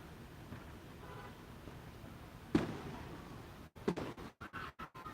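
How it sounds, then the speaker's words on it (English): Fireworks going off in the distance at Broadway at the Beach in Myrtle Beach, a few dull booms and pops over steady outdoor crowd and wind noise, faint and far off, with handling bumps toward the end. "Oh, fireworks are going."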